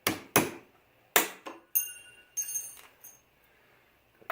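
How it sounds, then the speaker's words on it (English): A hammer strikes parts back onto a Maytag front-load washer during a bearing replacement: several sharp, close metallic blows in an uneven rhythm, followed by lighter clinks and a brief ringing tone. "I'm thinking a hammer"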